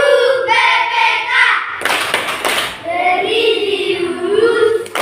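A group performs the rhythmic tepuk PPK clapping chant, with sung call-and-response voices around a burst of loud clapping in the middle.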